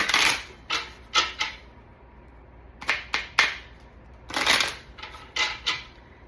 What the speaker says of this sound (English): So we're going to go back and shuffle the cards again.